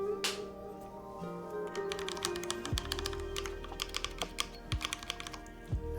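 Rapid, uneven clacking keystrokes on a freshly assembled mechanical computer keyboard with its keycaps newly fitted, close and fairly quiet, with a few deeper thocks from larger keys such as shift, and no voices.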